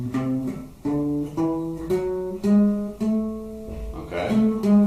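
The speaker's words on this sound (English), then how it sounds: "Then we've got the melodic, which sounds like this." A melodic minor scale in A, played as a run of single sustained notes, each one cleanly separated from the next, close and clear with no talking.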